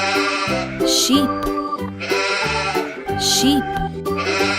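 Sheep bleat in wavering, nasal calls twice over a cheerful children's farm-animal song with steady backing music, the bleats standing out briefly above the tune.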